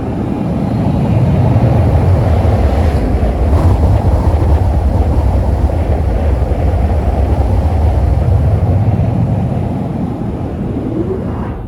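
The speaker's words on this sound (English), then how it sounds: "I'm going to open the window and we can compare and see how that sounds." Steady wind rush and road roar inside a Toyota RAV4 Prime with a window open, loud and constant throughout, with no voices.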